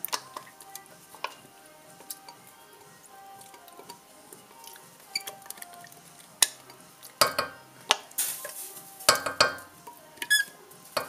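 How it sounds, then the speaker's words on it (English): Puree for a white chilli is scraped out of its container into a pan: soft, quiet scraping at first, then sharper intermittent scrapes and knocks that grow louder and more frequent toward the end. "we'll pop the puree into the pan."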